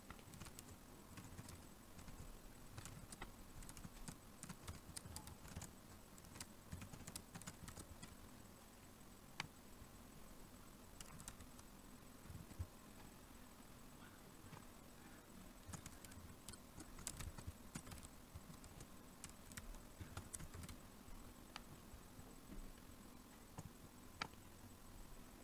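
Someone types Python code on a computer keyboard with a steady, faint clatter of key presses that comes in denser bursts at times, over a quiet background hiss.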